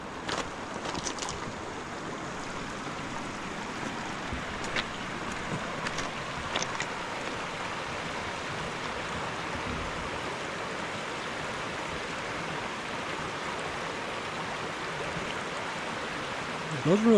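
River on the Clearwater Wilderness loop rushes in a steady, broad wash of flowing water, constant and fairly loud, with a few faint clicks over it.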